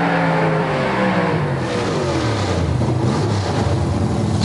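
Supermodified drag racing car at Bug Jam roaring hard, its engine note sweeping down in pitch as it passes, loud and close with no talk over it.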